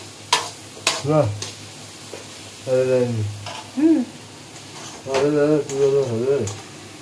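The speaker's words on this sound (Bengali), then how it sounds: "চিকেন কষা হচ্ছে" Chicken sizzling and being stirred in a hot pan for kosha during a home birthday lunch cooking session, a steady close frying crackle running under several bursts of conversation.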